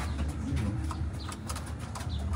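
Racing pigeons coo at the loft, soft low murmuring calls with a few light chirps, continuous over outdoor background noise and without talk.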